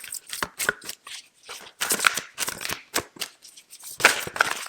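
Tarot cards are shuffled by hand in a series of short, crisp slaps and riffles close up, irregular bursts with brief pauses between them.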